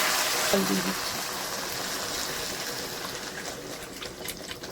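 Water goes into a pan of spiced fish curry, a steady broadband wash of pouring and sizzling that holds at moderate loudness, with a brief hum from a voice near the start.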